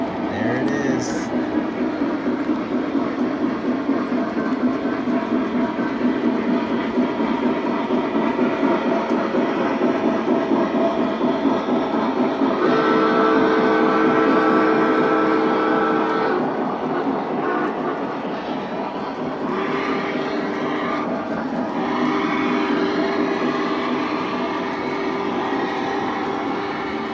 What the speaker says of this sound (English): And as soon as the train comes